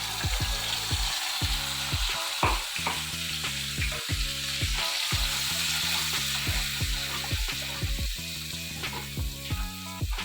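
A paste of one large onion and four or five green chillies fries in a pan, with a continuous loud sizzle and regular rhythmic scraping strokes of a spatula stirring it, close and without talk.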